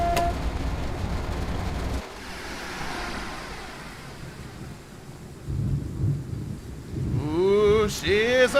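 Thunder rumbles during a storm, a long low rolling roar with rain and wind noise around it, fading midway and then building again.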